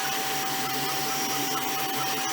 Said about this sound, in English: The fans are extremely loud because they're blowing a ton of air,